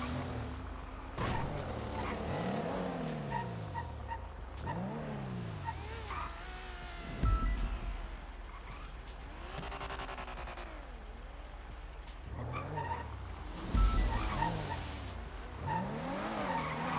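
Race cars in a video game sweep past with rising and falling engine whines, tires skidding and squealing through several passes, fairly faint, with occasional talk.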